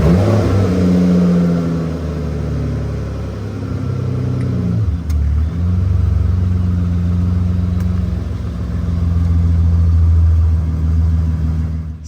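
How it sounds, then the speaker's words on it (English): An Aston Martin DB9 with a swapped-in engine drives along, its engine rumbling loud and near with gradual revs rising and easing over about twelve seconds. "The first time I'm driving an Aston Martin DB9 on camera with an engine that I installed on my own."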